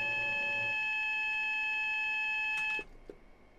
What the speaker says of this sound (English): I had to clear the alarm now.